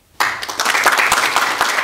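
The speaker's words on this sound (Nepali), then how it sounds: "ठोक देऊ जोडदार ताली" Sudden loud applause from an audience at a comedy and dohori stage performance breaks out after brief silence and carries on as dense, close clapping to the end.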